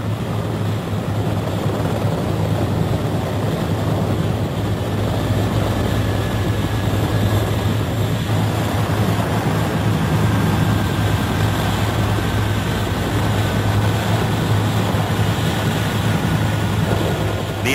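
Naval helicopters shuttle evacuees off an embassy rooftop during the fall of Saigon, 1975, their rotors and engines a steady, loud, unbroken drone with no voices.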